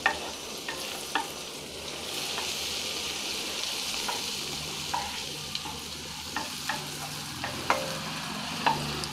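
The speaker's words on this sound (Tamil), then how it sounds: "இந்த பட்டரில் இந்த சீரகத்தை வறுக்கும்போது அதோடைய வாசனையே நல்லா வரும்" Cumin seeds fry in melting butter with a steady soft sizzle, broken by light scraping stirs at irregular intervals, close and alone with no voices.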